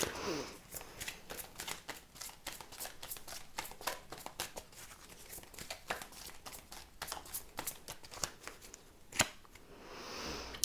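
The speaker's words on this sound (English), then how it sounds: "Let's get some oracle cards because I'm really keen to hear more" A deck of oracle cards is shuffled at close range for about ten seconds, giving a rapid, steady run of soft riffling flicks and slaps.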